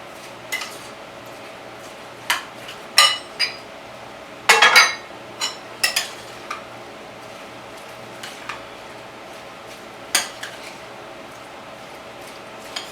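A spoon knocks and scrapes against a bowl in irregular clinks while mixing Salvadoran pupusa and curtido ingredients, with a brief flurry of rapid clatter midway, close and fairly crisp over a quiet kitchen background.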